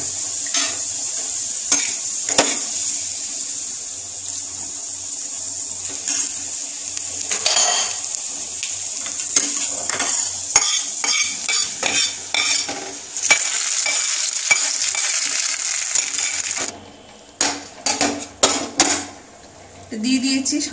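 Masoor dal thinned with added water, salted and with turmeric, stirred in a pot for a Bengali non-veg thali lunch; steady scraping and sloshing of a spoon runs throughout, with sharper clinks of utensil on pot toward the end.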